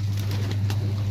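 Hungry pigeons in a cage coo steadily, a low continuous warble held close, with a few faint chirps over the top.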